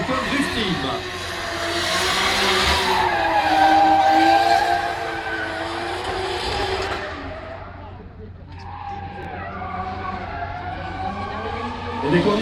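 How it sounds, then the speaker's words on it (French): A car drifting nearby with long screeching tire squeals and a revving engine rising and falling, loud and continuous. "pour la pratique du drift ici dans la cour intérieure"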